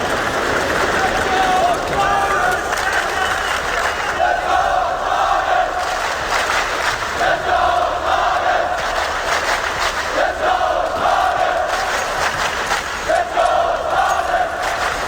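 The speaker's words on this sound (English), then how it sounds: "Great support here from the crowd for Astralis to make this comeback a reality." Esports arena crowd at the PGL Krakow 2017 CS:GO semifinal cheering for Astralis, a loud continuous roar with rising chants and shouts, while a commentator talks over it.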